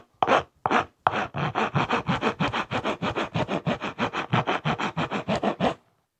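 GREBSTK 12-inch coarse-cut wood rasp with rubber grip filing wood in quick, regular back-and-forth strokes, about twenty rasping scrapes after a couple of slower opening passes, close and loud.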